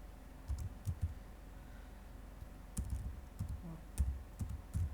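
Typing on a computer keyboard while working in MATLAB, scattered clusters of soft keystrokes and clicks with brief pauses between, close and moderately quiet, no voices.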